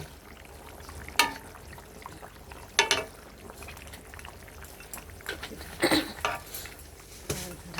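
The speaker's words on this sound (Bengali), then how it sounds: "মাছটা দিয়ে দেবো এখন ঝোলের উপরে" Fried tilapia pieces go into a simmering potato curry in a pot, with a few sharp metallic clanks and splashes over a low steady bubbling, close up, no voices.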